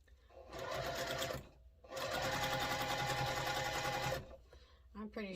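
Sewing machine stitching a quarter-inch seam on a quilt block, two close bursts of rapid steady stitching separated by a short pause, ending with a brief faint voice.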